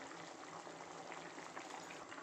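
A pot of tomato water chutney simmers on the stove, giving a faint, steady bubbling hiss without breaks and no voices.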